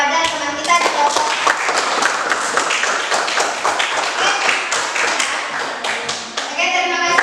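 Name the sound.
classroom applause for a presenting group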